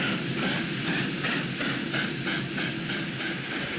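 Steam locomotive puffing away, a steady loud hiss with a regular chuffing pulse, continuous throughout with no voices.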